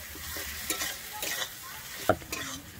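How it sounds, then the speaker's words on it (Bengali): Soft sizzling of tomatoes and spices frying for Bengali tel koi fish curry, broken by several scraping stirs and one sharp clink of a spoon against the pan. "টমেটোটা দিয়ে কিন্তু আমি আবার একটু ভালোভাবে এখানে কষিয়ে নেব।"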